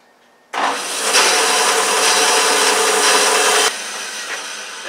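A bandsaw cuts along the grain of a wooden piece for crib making in one continuous, loud, close whine that lasts about three seconds and then stops abruptly.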